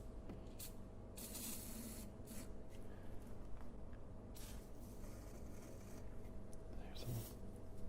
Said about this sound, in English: I'm going to put a little bit of PB Blaster down the spark plug holes